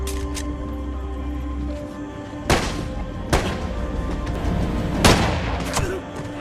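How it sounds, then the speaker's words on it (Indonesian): Gunfire in a sniper action film scene as shots are fired in every direction for a distraction: three sharp, loud bursts a second or so apart over a low background hum. "meminta Miguel yang berada di dalam untuk menembak ke sembarang arah sebagai pengalihan"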